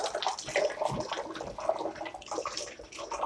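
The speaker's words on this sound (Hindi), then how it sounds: "पानी डालना स्टार्ट करिए।" Water poured into open plastic bottles during a hydrostatic pressure experiment, a steady splashing trickle running throughout at moderate level with no voices.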